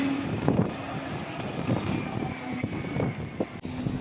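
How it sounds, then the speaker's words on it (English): Steady wind buffets the microphone outdoors in Skagway, Alaska, a continuous rushing roar with gusty swells and low rumbling thumps throughout. "It's a very windy day here in Skagway"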